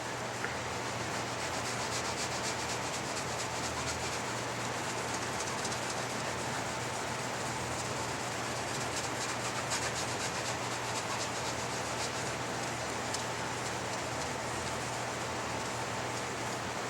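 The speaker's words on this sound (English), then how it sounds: "then we'll use our clean microfiber towel and buff it off" A clean microfiber towel buffs polish off a reconditioned wooden gunstock, making a faint continuous rubbing and swishing that stays close and steady throughout, with no voices.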